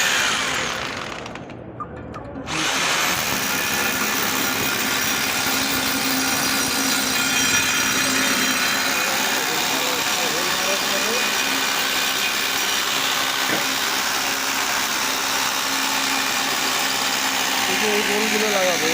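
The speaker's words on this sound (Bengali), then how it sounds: "ড্রিল মেশিন দিয়ে হোল করা হচ্ছে।" An electric drill bores a hole for an anchor bolt, giving a steady, loud whine that runs almost the whole time after a brief pause near the start.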